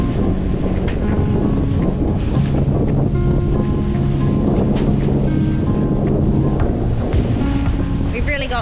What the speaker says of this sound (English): We've really got wind chop here with the swell at about, half a metre.